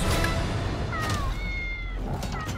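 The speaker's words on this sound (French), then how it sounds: "Ne jamais avoir peur d'un gros chat, Lorenz." A cat meows several times in short, rising and falling calls over a steady low background rumble, fairly close and clear.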